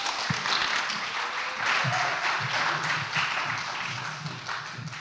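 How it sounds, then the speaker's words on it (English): An audience at an oratory competition gives a round of applause, a sustained dense clapping that fills the room from start to finish, with a few louder nearby claps standing out. "Give her a round of applause."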